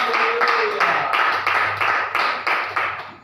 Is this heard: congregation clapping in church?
yes